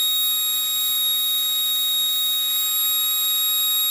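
A brushed electric motor running steadily gives off a constant high-pitched whine near 3800 hertz, a sustained tone with no breaks.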